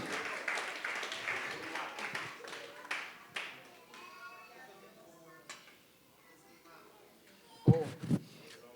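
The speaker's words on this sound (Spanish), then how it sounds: "Dele fuerte el aplauso a Dios, a su nombre" A church congregation claps during a service, a brisk burst of applause that fades after a few seconds, followed by quieter room sounds and a couple of sharp knocks near the end, with speech mixed in.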